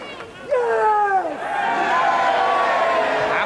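Wrestling crowd at a UK wrestling event cheering and chattering, a loud sustained roar of many voices with a rising shout near the start, filling the hall without a break.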